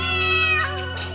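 A single drawn-out cat meow, close and clear, rising then trailing off.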